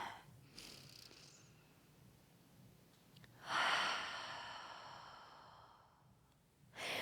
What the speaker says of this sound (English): we're going to finish on 3 large inhale, exhales in through the nose, out through the mouth